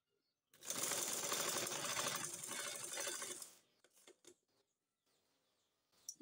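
A domestic sewing machine stitches a blouse seam in one loud, continuous three-second run, followed by scattered faint clicks and handling noises of fabric and tools.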